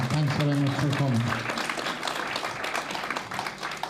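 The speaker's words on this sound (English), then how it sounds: "So give her a big round of applause, and thanks very much for coming." Audience applause at a festival launch night, a dense wash of clapping that follows a brief voice at the start and then continues steadily and fairly loud to the end.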